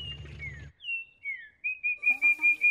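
A cartoon character's voice imitates bird chirping in a park, giving a series of clear whistled tweets that start as single slides and become a rapid repeating run of chirps, loud and close.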